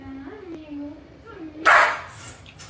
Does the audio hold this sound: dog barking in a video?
yes